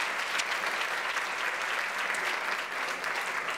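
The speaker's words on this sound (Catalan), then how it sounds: "Un fort aplaudiment per a Rocío Gisbert" Dense, steady applause from an audience filling the room after a dance performance by a ballerina at an awards ceremony, continuous and even throughout with no voices.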